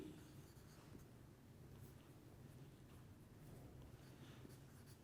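Handwriting during a chemistry lecture: a soft, continuous scratchy rustle of writing, low and steady throughout, ending with a small bump at the very end.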